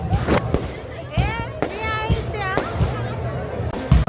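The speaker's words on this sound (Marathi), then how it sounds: "इकडे बघा 12 वाजे आणि फटाके चालू झालेले आहेत वरती बघा" New Year's Eve fireworks burst overhead in a series of sharp cracks and whistling rising tones, fairly close, while a person talks over them throughout.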